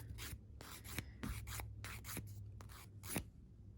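Dip powder being filed or buffed off a fingernail to remove remaining shine: a run of short, quiet rasping strokes with a steady rhythm, close to the mic, with no talking.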